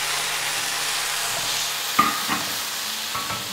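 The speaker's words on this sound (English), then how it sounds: "I'm gonna drop in this 2 tablespoons of butter. And as that is melting, I'm gonna go on and add this squash even before it gets melted." Butter melting and squash frying in a hot pan give a steady, close sizzle, with a few stirring knocks and scrapes near the end and no talking.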